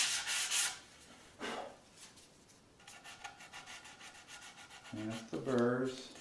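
Hand sanding the sharp corner of a knotty pine cabinet door, a few short dry rubbing strokes, close and fairly quiet, with a brief voice near the end.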